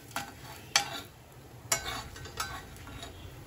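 A mixed-flour thalipeeth flipped over and roasting in oil in a pan over medium heat: a soft sizzle broken by a few sharp clicks and scrapes of the spatula against the pan.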